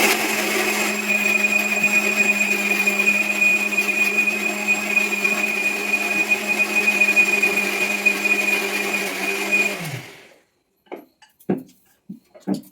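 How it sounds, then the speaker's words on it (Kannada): A kitchen mixer grinder grinds soaked rice into dosa batter, a loud, steady whining motor hum running for about ten seconds before cutting off, followed by a few faint clinks. "ಮಿಕ್ಸಿ ಹಾಕಕತ್ತ ಅಕ್ಕಿನ"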